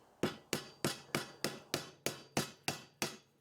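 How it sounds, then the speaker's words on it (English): A soft-faced hammer knocks loose the end caps of a bench grinder motor: about ten sharp, evenly spaced blows, close up and alone, each a crisp thud with a quick decay. "Now I can use a soft-faced hammer to loosen the motor end caps."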